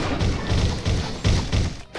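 Explosions in the action RPG Secrets of Grindea: a string of five or six heavy, booming thuds at roughly even intervals, loud and close, ending in a brief lull.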